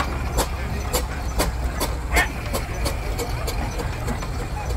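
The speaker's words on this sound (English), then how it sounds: "what looks a bit like a Fowler flowering engine with a thumping great diesel on the top" A Fowler ploughing engine over 100 years old, built in 1918 and fitted with a large diesel engine, shown at an outdoor steam rally, running with a steady low rumble and a regular sharp clacking beat, close and loud.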